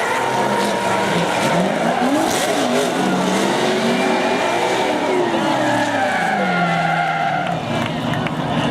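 A V8-powered Nissan S14 drift car spinning out during a competition run, tires squealing and skidding in long wavering shrieks over a loud, revving engine, with crowd and commentary noise behind.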